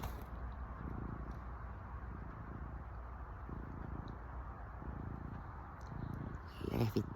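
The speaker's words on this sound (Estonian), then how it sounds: "Ja ta nurrub." Domestic cat purring close by in a steady low rumble with rhythmic breathing pulses repeating about once a second, with a brief louder rustle near the end.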